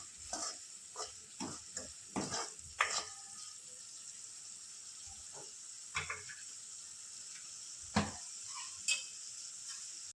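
Spice masala cooking with onions in a pan, a quiet steady sizzle punctuated by irregular scraping and clanking stir strokes, close but soft.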